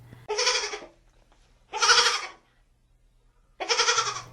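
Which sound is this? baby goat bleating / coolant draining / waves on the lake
baby goat bleating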